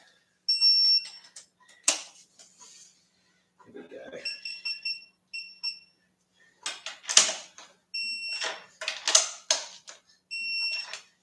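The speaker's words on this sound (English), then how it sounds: "So that beeping you hear is obviously when it's got to the torque setting that's required." A digital torque wrench on an Aprilia RSV4 RF motorcycle gives bursts of sharp, high electronic beeps, repeated in short groups as it reaches the set torque, mixed with clicks and ratcheting clatter close by.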